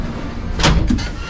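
Heavy fire door aboard the Carnival Mardi Gras cruise ship swinging shut with a solid thud and a second knock just after, close and loud over faint background hum.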